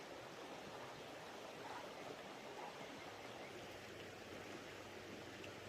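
A creek runs beside a night campsite, its water flowing in a soft, steady, even rush with no voices.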